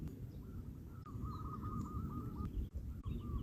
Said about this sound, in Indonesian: pagi ini aku mendengar kicauan burung saling berbalas